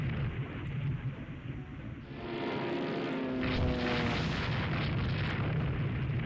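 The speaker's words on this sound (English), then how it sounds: "Oh, something has taken a torpedo hit." A torpedo strikes a warship in the Spanish naval battle of Rule The Waves 3, a deep rumbling boom that swells over steady low battle noise and lingers for several seconds.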